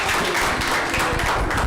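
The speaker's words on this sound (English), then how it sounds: "Give a big round of applause to Shivakumar sir." Audience at an international academic conference applauding an organizer, a dense loud wash of clapping with some low rumble and possible voices mixed in.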